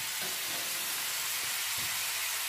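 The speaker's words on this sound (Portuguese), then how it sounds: "Vamos deixar aqui a fritar." Eggplant frying in a pan with bay leaf gives off a steady, close sizzle throughout, with a few soft bumps from the pan and no talking.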